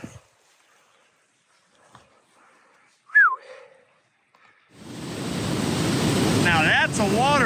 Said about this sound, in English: Now that's a waterfall, baby.